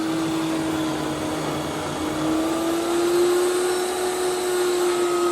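An ice cream machine motor drones loudly and steadily with a whirring hum that rises slightly in pitch partway through, running alone without speech.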